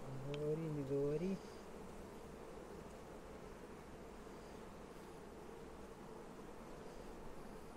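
A constant soft buzzing of many Tatar Central Russian honeybees hums throughout at an open hive, with a brief spoken phrase at the start.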